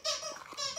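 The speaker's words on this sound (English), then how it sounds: "Charlie, no squeaking it while Mom's filming" A squeaky toy being squeezed gives a pair of high, shrill squeaks in under a second, close and clear with no talking.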